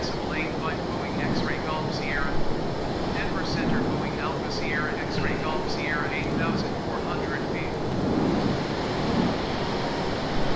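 F/A-18 jet flying low over the Colorado Rockies, a steady loud roar of engine and rushing air throughout, with a voice talking over it.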